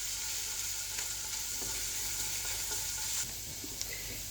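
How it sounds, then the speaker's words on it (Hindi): Garlic sautéing in oil for chicken manchurian, a steady close sizzle with a few soft stirring taps, constant and unbroken, no voices. "जब तक इसको फ्राई करेंगे गार्लिक को, जब तक कि इसकी अच्छी सी खुशबू ना आने लग जाए।"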